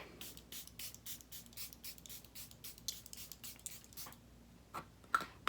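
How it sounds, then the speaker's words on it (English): A quick series of short, breathy bursts of setting spray onto a face repeats in an even rhythm up close, then slows to a few scattered pumps. "I'm going to spray my face with this."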